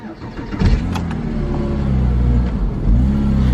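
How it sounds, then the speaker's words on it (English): A Porsche Boxster S engine cranks and catches, then settles into a steady idle with a couple of throttle blips that swell and fall back, close and loud, with no talking. "now that the car is started"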